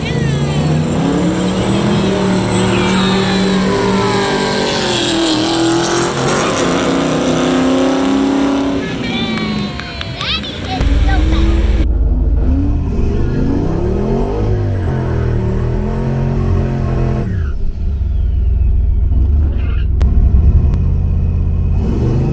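A turbocharged small-block Ford Mercury Zephyr drag car makes a pass at a drag strip, a loud continuous engine roar rising through revs, dipping briefly as gears change, then surging again with a deep rumble.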